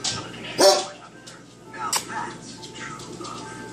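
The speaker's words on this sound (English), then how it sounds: "the dogs are barking" Dogs bark indoors, two sharp loud barks with a few smaller yips and whimpers between, close by, while a person talks nearby.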